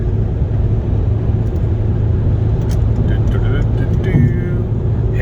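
A 2011 Volvo C30 R with a manual gearbox cruising on a highway, a loud, constant low road and engine rumble with tire roar, with faint higher whines layered on top.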